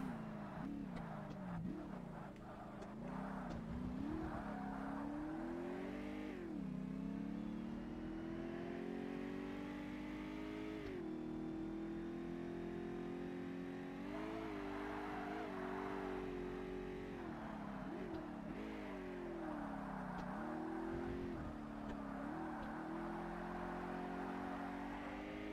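Race car engine in Forza Motorsport during a classic sports car endurance race, repeatedly revving up through gears with sharp shifts and drops, a continuous loud whine with no talk.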